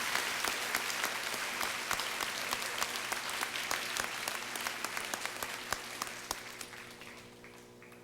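An audience at a Port Huron High School honors assembly gives academic award recipients a steady round of applause. Many hands clap together, fairly near, and the clapping thins out toward the end.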